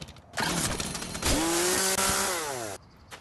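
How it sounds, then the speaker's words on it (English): A chainsaw from the game Yeeps snarls to life, revving loudly and close for about two and a half seconds with a rising, whining engine pitch before cutting off abruptly. "Wait, I have a chainsaw."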